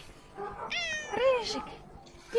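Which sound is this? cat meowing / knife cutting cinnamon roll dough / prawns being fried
cat meowing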